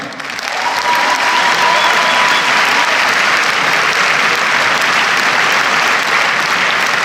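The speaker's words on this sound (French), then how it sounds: "on pense à eux et on peut les applaudir" Loud, sustained audience applause in a Paris cinema at a film premiere, a dense, even roar of many hands clapping that rises quickly and holds steady throughout.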